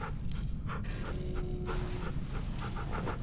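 Rosie the dog pants in The Walking Dead: The Final Season video game, quick rhythmic breathy huffs repeating close up, with a faint whimpery tone and no speech over them.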